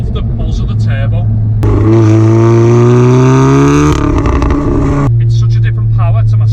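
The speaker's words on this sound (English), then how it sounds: "Love the buzz of the turbo." A Revo stage 3 tuned VW Golf R accelerates hard from inside the cabin, engine pitch climbing loudly through a gear before a shift drops back to a lower drone, with a buzzy turbo edge.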